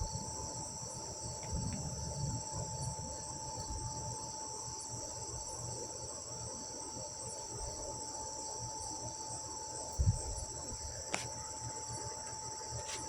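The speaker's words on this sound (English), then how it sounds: "Maybe it's the sounds of the night, the crickets and the bats." Crickets chirp steadily through a night with a lightning storm outside, a continuous high insect trill at moderate distance, with occasional faint low thumps in the background.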